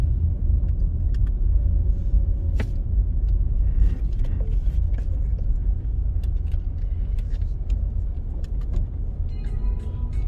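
Car driving slowly through a gated residential community, a steady low engine and road rumble with faint clicks and small rattles over it, no talking.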